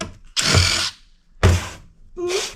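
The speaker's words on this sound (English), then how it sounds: "the number 1 Phillips is getting these" Three separate bursts of tool noise, a number 1 Phillips driver backing black screws out of a POS machine's casing, each burst loud and close with short pauses between.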